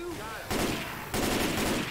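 Gunfire in the zombie shooter Left 4 Dead 2 comes as two loud, dense bursts of rapid shots, close and harsh, with the game's background noise between them.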